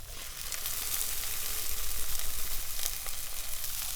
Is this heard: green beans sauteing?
yes